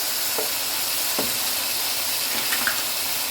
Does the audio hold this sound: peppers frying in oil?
yes